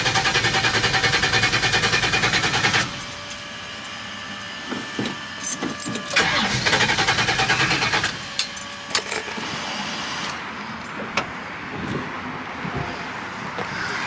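A 455 Pontiac LeMans with an ignition problem cranks in loud rhythmic bursts, first a long run, then short stuttering attempts and a second long crank that does not catch, with faint clicks between, close up and without talk.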